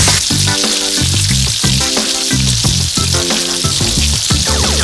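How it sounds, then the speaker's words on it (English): Loud, continuous frying sizzle from pork chops in a hot pan, with bursts of crackling and hissing and some clinking of cookware, no talking. "I want the chops to cook in that steam. Yeah, sizzling."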